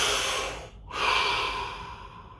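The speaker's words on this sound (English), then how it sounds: "Deep breath." One person takes a slow deep breath while sitting still, a long airy inhale, a brief pause, then a long exhale, close and alone in silence.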